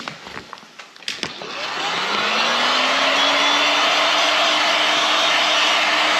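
After a few handling clicks and rustles, a heat gun spins up and then blows with a loud, steady whir as it warms vinyl wrap film on an Audi.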